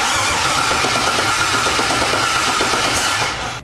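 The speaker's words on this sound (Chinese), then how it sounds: "现在发动机也有动静了" A 1973 Rolls-Royce engine being restored runs with a steady, loud, rough mechanical roar that holds evenly before easing off at the very end.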